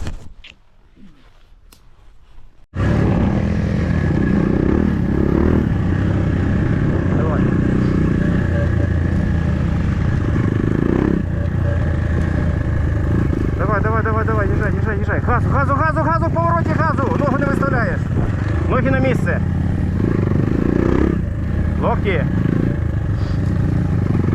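KAYO TSD 110 enduro motorcycles ride past on an off-road training run, a loud sustained engine roar that suddenly starts and holds, with rising revving whines midway, while people talk over it.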